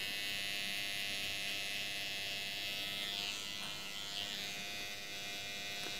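Electric hair clipper buzzing steadily and close while cutting a man's hair over a comb for a tapered haircut, a continuous high whir with slight changes in pitch as it moves through the hair, with no talking.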